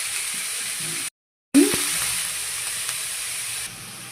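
Steady hissing sizzle of vegetables frying in a kadai, with a brief pause and a clatter as ingredients drop in.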